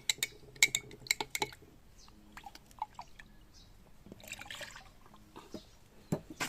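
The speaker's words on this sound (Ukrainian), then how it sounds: "Третій в черзі наливаємо липосам." Liposam is poured into a garden spray tank mixture, heard as quiet trickling liquid among sharp clinks and small knocks of containers, all fairly faint and close.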